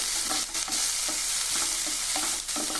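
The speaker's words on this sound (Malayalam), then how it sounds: "ഇനി നമുക്കിതിലേക്ക് ഒരു സവാള ചെറുതായി അരിഞ്ഞത് ചേർത്ത് സവാള ഒന്ന് വാടുന്നത്" Finely chopped onion fries in a hot pan with cardamom and clove, a dense continuous sizzle broken by repeated soft scraping strokes of a stirring spoon.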